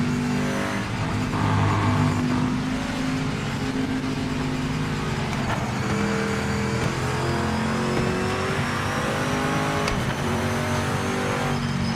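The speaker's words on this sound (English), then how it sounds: "It feels like a race car, but it sounds angrier." A race car in the racing video game Project Motor Racing howls through its gears, the engine note rising and dropping repeatedly in loud, continuous revving with shifting pitch, no talking over it.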